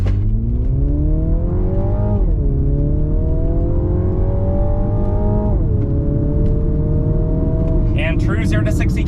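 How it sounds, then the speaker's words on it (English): Turbocharged 2024 Mini Cooper Countryman JCW Edition accelerating hard from 0 to 60 at high altitude, with traction control off and sport mode on. The engine climbs loudly through rising pitch sweeps, dropping briefly at each gear change. "0 to 60 in the Mini Cooper"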